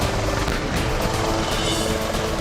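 A 2-ton light utility military helicopter drones steadily and loudly with a dense rotor and turbine roar, unbroken for the whole stretch and with no voices.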